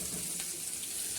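Green chillies and curry leaves with a pinch of turmeric sizzle in hot oil, giving a soft, even hiss with faint crackling, heard briefly and close.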